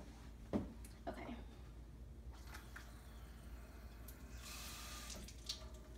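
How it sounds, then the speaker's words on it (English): Water pours into a sink as a steady, fairly soft running wash with a few brief splashy bursts, heard alone at close range. "now I'll be going over to the sink and pouring this water"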